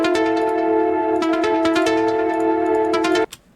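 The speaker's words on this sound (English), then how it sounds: "So first loop sounds like this." A loud, steady synth music loop in FL Studio holds sustained tones with rhythmic accents, then stops sharply near the end, leaving a brief faint tail. No one talks.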